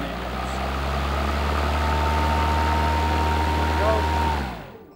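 A Husqvarna self-propelled lawn mower engine runs with a steady, loud low hum and a thin whine, then cuts off abruptly near the end.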